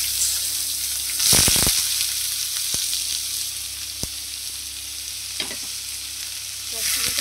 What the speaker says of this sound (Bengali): জিরে ফোড়ন দেব, এতে পেঁয়াজ কুচিগুলো দিয়ে দেবো।